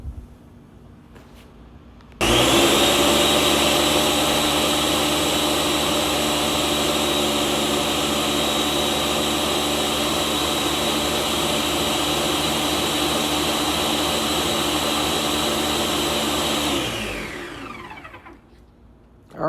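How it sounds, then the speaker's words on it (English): A blender roars to life abruptly and runs at a steady, loud, continuous whir for about fifteen seconds before spinning down. "We're gonna put this in the blender. And we're going to hit power pulse."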